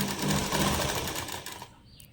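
A sewing machine runs steadily while stitching a designer lehenga, its fast continuous whirr close and loud for most of the span before stopping near the end.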